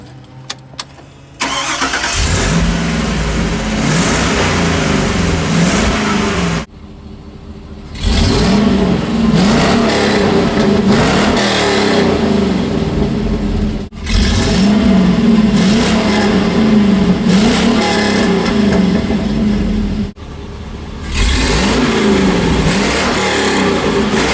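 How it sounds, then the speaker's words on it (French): A Hummer H2 engine with a stainless steel exhaust starts and revs repeatedly with a deep, throaty exhaust rumble, loud and close, with brief pauses between rev sequences. "on fera un petit test du bruit du moteur après"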